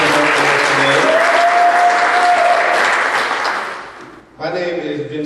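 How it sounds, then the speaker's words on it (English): Loud, sustained applause from a crowd at a cannabis reform conference panel, steady for about four seconds before fading, then a voice begins speaking over a sound system. "Big round of applause for Sharon for opening up for us today."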